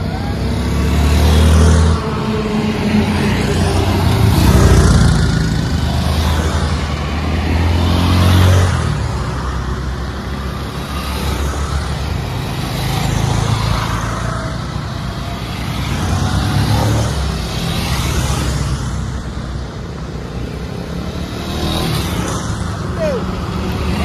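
Busy road traffic with cars and motorcycles passing close by, engines rising and fading in repeated waves under people talking.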